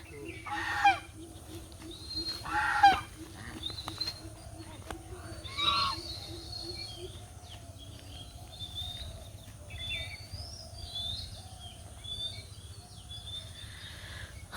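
Scattered honking calls from ducks at a moderate distance, a few louder bursts among fainter ones over a low background hum.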